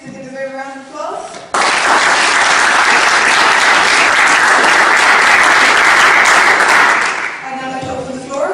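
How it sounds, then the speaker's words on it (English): Audience applause after speakers at a university debating society Seanad-style debate, bursting in loudly after a brief voice and holding as a dense, steady roar for about six seconds before tapering off into talk. "They deserve a round of applause."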